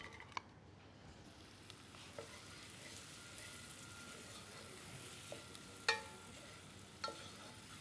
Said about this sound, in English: grab a saucepan and over a medium-high heat, melt some butter. Add some onions and cook for about 4 minutes